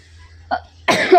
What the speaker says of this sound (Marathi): मॅडम मॅडमने खोकला सुटला